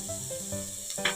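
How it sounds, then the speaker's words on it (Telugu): Baby corn and mixed vegetables fry in a pan, giving a soft, steady sizzle with a few faint stirring scrapes over a brief moment. "చిన్న బేబీ కార్న్స్, అవే యాడ్ చేస్తున్నాను. ఇది కూడా చక్కగా వేయించుకుందాం."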